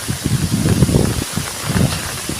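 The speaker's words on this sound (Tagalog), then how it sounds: "malakas na yung hangin" Gusty wind sweeps through foliage in two strong surges, leaves rustling loudly with a short lull between them.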